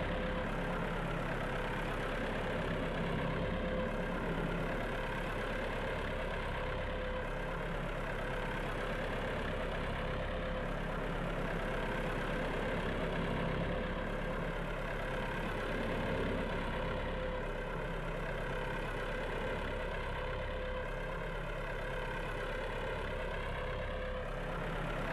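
A tractor engine idles steadily in Farming Simulator 22, a low, even mechanical rumble with a faint rhythmic throb that holds unchanged throughout, loud and close with nothing else over it.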